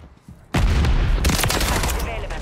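Sustained automatic gunfire in Call of Duty MW3 multiplayer on the Rust map, erupting suddenly into loud, dense rapid bursts that carry on to the end.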